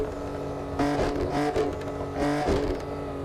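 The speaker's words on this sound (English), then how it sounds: "it does have a burble tune" Car exhaust with a burble tune in a video game, an engine droning steadily with two rougher swells of crackling, popping exhaust burble.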